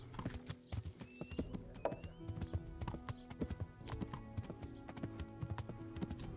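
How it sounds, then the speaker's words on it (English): Horse hooves clip-clop steadily at a walking pace in Kingdom Come: Deliverance, with a brief whinny, near and fairly loud over a busy game soundscape. "I want to take a look at these horses."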